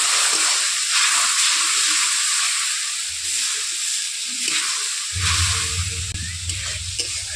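A little water goes into a frying paste of chilli and turmeric powder, setting off a loud, hissing sizzle that swells as the mix is stirred, with a low bubbling rumble rising toward the end.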